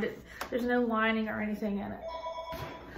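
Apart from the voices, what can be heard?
telephone ringing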